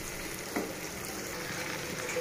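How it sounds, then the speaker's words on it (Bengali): Cow brain frying in a pan and being gently stirred, a steady close sizzle with a soft scrape of stirring midway, no talking. "এখন ধীরে ধীরে এটি ভুনা ভুনা করতে হবে।"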